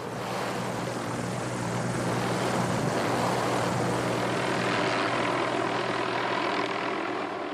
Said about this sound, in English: the best way to get into these mountains and look around is with a helicopter